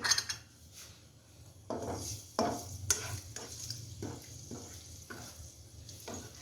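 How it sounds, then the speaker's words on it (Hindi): Ginger garlic paste sautés in a pan while a spoon scrapes and stirs, giving a soft sizzle broken by irregular clinks and scraping strokes. "आप देख रहे हैं कि सैमुअल अदरक लहसुन को थोड़ा सा सौते कर रहे हैं।"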